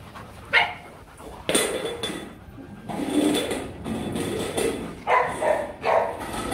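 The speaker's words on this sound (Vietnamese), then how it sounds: "Âm thanh đấy là âm thanh của Dina đấy" Rottweiler barking several times in short bursts with pauses, fairly close and loud, set against background noise and bowl clatter.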